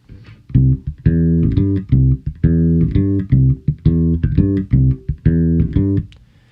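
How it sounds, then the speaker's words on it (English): A deep bass guitar plays a steady, bouncing line of repeated low notes in a looping pattern, clear and up front with no voices. "How many times have you heard a bass line that sounds like this?"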